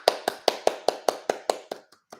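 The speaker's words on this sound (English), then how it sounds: "clap for them before you get up." A child claps hands about ten times at a steady quick pace, each clap sharp and close, with the last few fading softer.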